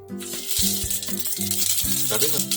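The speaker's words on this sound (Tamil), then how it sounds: "கடுகு பொரிஞ்சிருச்சு" Mustard seeds crackle and pop in hot oil in a pan for beetroot chutney, a dense, close, continuous spluttering sizzle with faint tones behind it.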